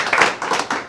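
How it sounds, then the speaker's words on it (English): A Rotary club meeting audience gives a brief round of applause: a short, loud spatter of hand claps in a few quick bursts, close and without talk. "So, round of applause."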